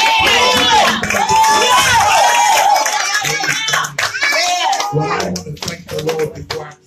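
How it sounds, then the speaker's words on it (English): Church congregation clapping hands to praise the Lord, loud and dense with cheering and whoops mixed in, a crowd of voices shouting throughout and a singing or speaking voice riding over the clapping toward the end. "let's get the Lord a hand clap"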